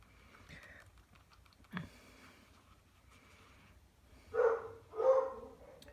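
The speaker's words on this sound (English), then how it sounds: "Can you hear the dog barking?" Two short dog barks sound from a distance, half a second apart, after a stretch of quiet light tapping and a single sharp knock in a calm indoor room.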